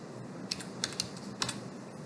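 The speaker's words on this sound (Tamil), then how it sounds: "ஏதாவது ஒரு நேமை டைப் பண்ணணும்" Light typing on a computer keyboard while setting up an account: a handful of sharp, quiet key clicks in an irregular rhythm over a faint room hum.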